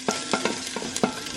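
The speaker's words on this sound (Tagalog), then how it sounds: "Ang bango talaga ng ginger pag pinirito mo talaga ba?" Ginger frying in a hot pan, with quick rhythmic scraping strokes from stirring over a constant soft sizzle, close and brief, with no voices.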